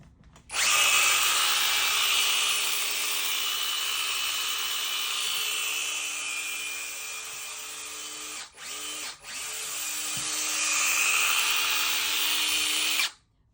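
A Procraft cordless pole pruner saw runs loud and close with a steady high motor whine, held for about twelve seconds with two brief dips in the middle before it stops.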